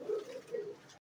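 Two short, soft, throaty coos from pigeons at a pigeon sale, where khaura and garra birds are on offer, follow quickly one after the other before the sound cuts off into silence.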